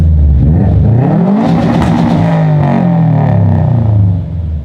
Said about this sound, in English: Want a little rev? Yeah, give me a little rev for the boys.